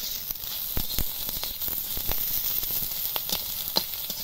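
Crushed garlic sizzling in a little hot oil in a pan, a steady close hiss broken by sharp scattered pops and crackles, with no talking.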